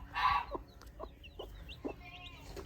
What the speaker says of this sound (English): We've got about 3 mixes of Easter egger chicks.